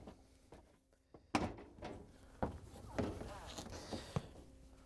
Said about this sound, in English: Once you have the weight out, you can lower the inner door down and line it up.